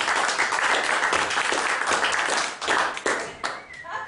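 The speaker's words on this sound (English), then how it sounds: "give me a round of applause" An audience at a live comedy mind-reading show applauds a volunteer, with dense, steady clapping filling the room before thinning out toward the end.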